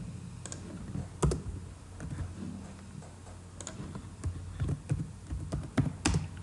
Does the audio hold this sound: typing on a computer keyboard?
yes